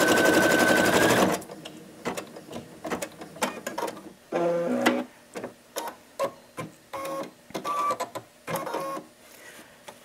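An embroidery sewing machine stitches an applique placement line in white thread, a loud continuous whir at first, then short repeated bursts of mechanical stitching with brief pauses between them.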